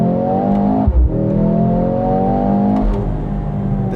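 2025 Mercedes-AMG GLC 63 S E Performance accelerating hard, its engine note rising steadily in pitch through the gears with a brief dip at a shift, loud and close from inside the cabin.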